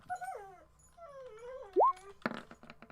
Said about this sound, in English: I hear your puppy.